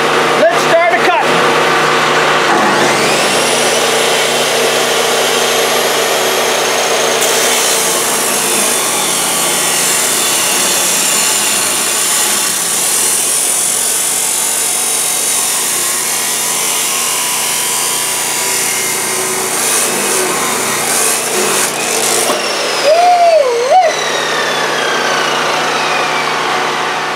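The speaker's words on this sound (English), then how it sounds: "We'll see if this Furman genset can run this Milwaukee chop saw" A Milwaukee 6180-20 abrasive chop saw running on a Firman PO3501 generator spins up to a loud, sustained whine and grinds through a cut, the tone dipping under load, then winds down near the end.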